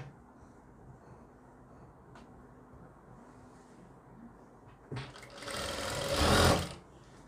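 A sewing machine stitching a kurti runs in a close, loud mechanical whir that builds and peaks near the end, with quiet handling and background hum before it.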